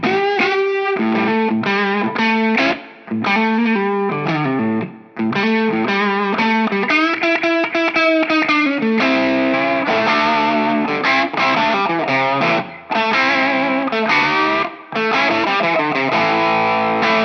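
Epiphone Power Players electric guitar played through distortion with a chorus-like effect, a continuous run of loud chords and riffs that stops briefly a few times, sounding much like a Les Paul.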